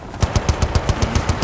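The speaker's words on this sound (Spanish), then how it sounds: "¡Ametralladora allí!" Rapid burst of machine gun fire in the video game Battlefield Bad Company 2, about ten evenly spaced loud shots in quick rhythm.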